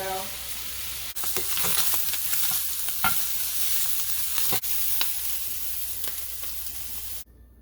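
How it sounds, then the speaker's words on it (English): Sausage simmering in an apple and cabbage stew, a soft continuous sizzle with scraping stir strokes and occasional spoon clacks against the pot, close up and steady throughout with no talking. "So now that the sausage is in, I cover it back up, and then we let it cook"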